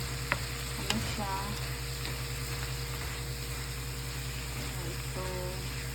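Bacon and green onions fry in a pan with a constant loud sizzle, while a utensil stirs and scrapes them in short, irregular strokes.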